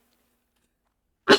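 A single short, sharp sneeze bursts out at the very end after near silence, close and fairly loud.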